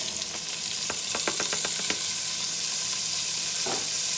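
Vegetables sauté in a hot pan for a homemade pork dish, a steady close sizzle of frying with a few sharp clicks and scrapes from stirring, heard alone without talk.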